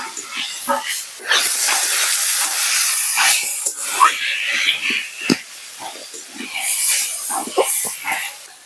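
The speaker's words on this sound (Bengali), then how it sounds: "আরো ভালোভাবে ডুমুরটা কষিয়ে নেব যতক্ষণ না তেল ছাড়ছে ততক্ষণ আমি কষাতেই থাকবো" Cut figs and chopped tomato sautéing in hot oil in a pan for a Bengali fig and prawn dish, a steady loud hiss and sizzle with bursts of spattering throughout, while a voice speaks over the cooking.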